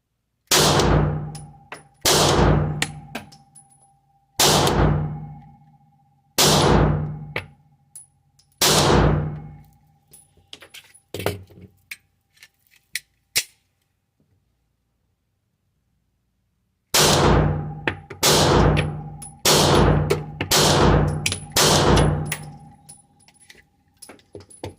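Loud pistol shots from a Glock 43 fired at 5 yards on a shooting range. A close, sharp burst of five evenly spaced shots is followed by a few lighter clicks, a silent pause, and then another rapid string of seven or eight shots.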